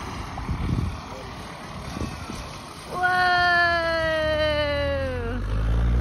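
A seaplane passes low over a beach, its droning propeller engine rising suddenly partway through and holding loud and steady, after scattered beach noise and children's voices.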